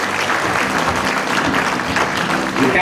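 Loud, continuous applause from a crowd at a World Puzzle Championship award ceremony honoring the fifth place team, a dense, even roar of clapping throughout.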